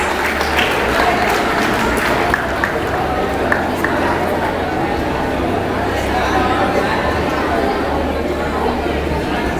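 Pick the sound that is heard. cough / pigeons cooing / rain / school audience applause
school audience applause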